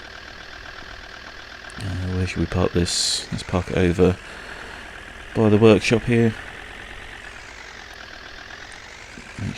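A DHL lorry idles in Farming Simulator 19, parked by a workshop, its steady low engine rumble running under someone talking.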